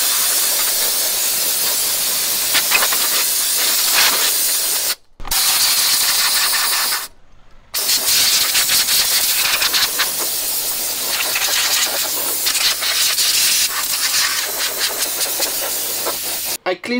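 An air compressor nozzle blasts air over parts from a 1999 Compaq ProLiant 3000 server, giving loud, close hissing bursts with two short pauses and faint mechanical clicks.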